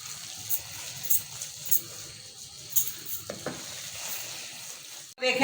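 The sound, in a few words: besan (gram flour) being stirred and roasted in pan for barfi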